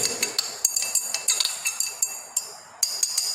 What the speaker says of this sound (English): We have stirred it properly